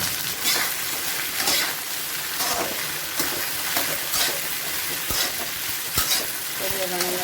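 Okra sizzles steadily in hot oil with popping mustard seeds, a constant loud frying hiss broken by periodic stirring scrapes.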